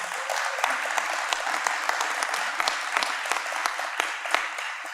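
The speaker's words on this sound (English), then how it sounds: "let's give them both a round of applause" Audience applause at a press event at Camden High School, a steady wash of many hands clapping at moderate distance for the full stretch, with no voice over it.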